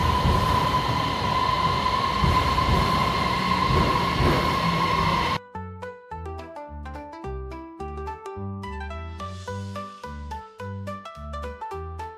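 A subway train in China rumbles into a deep underground station with rising wheel and rail noise, loud and close, before it gives way to music.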